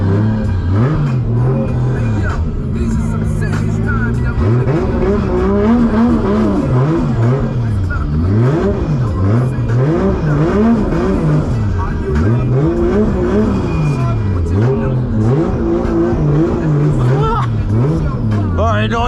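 A Toyota JZX car engine drones and revs loudly throughout, its pitch rising and falling in repeated swells, with people talking over it.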